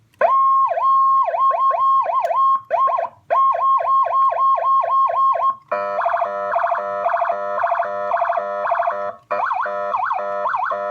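A Storm 200 electronic siren cycles through several tones, first a rapid yelping warble, then a fast pulsing hi-lo pattern, loud and close with brief gaps as the tones switch.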